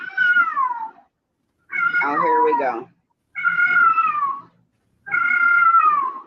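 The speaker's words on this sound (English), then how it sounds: "That's the cat going mental or what?" A kitten yowls and caterwauls in four long, drawn-out calls separated by short silences, loud and close, with one call turning into a wavering, strained wail.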